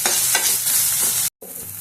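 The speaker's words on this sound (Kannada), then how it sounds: "ಇವಾಗ ಚೆನ್ನಾಗಿ ಫ್ರೈ ಮಾಡ್ಕೊಳ್ಳೋಣ." Onion, tomato and curry leaves fry in hot oil with a loud, steady broadband sizzle and a few stirring scrapes, cut by a brief gap near the end before the frying resumes.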